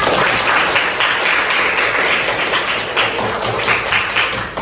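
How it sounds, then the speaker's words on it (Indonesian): Sustained classroom applause for a student at a junior high school, dense clapping from many pairs of hands filling the room at steady loudness, with no speech over it. "Oke, beri applause dulu untuk temannya."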